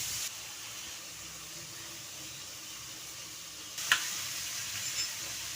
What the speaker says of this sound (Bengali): মাছটা ভালো করে ভেজে নেব